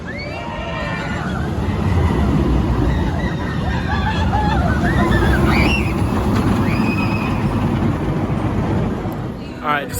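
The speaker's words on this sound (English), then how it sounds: "their aero looper is a corkscrew clone called Steamin' Demon" A ride on Steamin' Demon, an aero looper corkscrew roller coaster at Six Flags New England, roaring and rattling loudly along the track while riders scream and shout over it.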